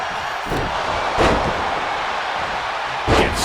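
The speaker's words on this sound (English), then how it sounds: "Gets slammed down" A wrestler thuds onto the mat in a WWE 2K25 fatal four-way steel cage match, with a couple of broad impact slams over steady arena crowd noise.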